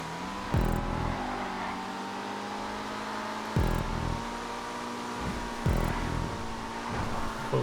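A car engine in GTA 5 runs at full throttle, holding a loud sustained high-rev drone with three sharp gear-shift breaks spaced about three seconds apart, alone without talk.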